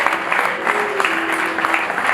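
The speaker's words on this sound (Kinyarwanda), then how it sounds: "bashima Imana bakoma amashyi" Wedding guests applaud steadily at a church ceremony, a dense wash of clapping with a faint sustained tone running beneath it, continuous for a couple of seconds with no clear talk.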